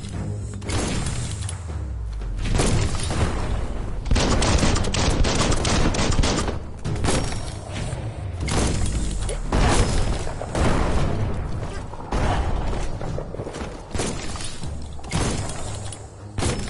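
A bomb lobber weapon fires in the video game Biomutant, producing heavy repeated explosive booms and gunfire-like bursts that stay loud and dense throughout, without speech.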